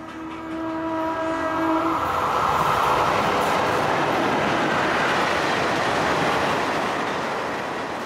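An Indian long-distance passenger train sounds a brief horn, then rumbles past loudly and steadily, its wheels and carriages roaring continuously before easing slightly at the end.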